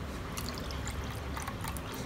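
Water is poured into strained pani puri water to dilute it, giving a soft, steady splashing trickle with scattered drips, fairly quiet and close.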